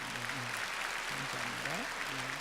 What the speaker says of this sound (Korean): 우리 다 같이 한 뜨거운 박수를 보내주시면 고맙겠습니다